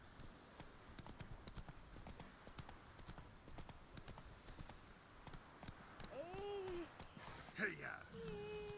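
Rhythmic clip-clop of a horse galloping in The Witcher 3 video game, steady hoofbeats throughout, with a brief whinny and other game sounds near the end; a person talks over it.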